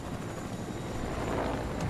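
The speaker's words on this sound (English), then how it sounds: "Turn the helicopter a little bit." A helicopter in Fortnite gives a steady, loud rotor and engine rumble with dense low thudding throughout, close and continuous, with no talk over it.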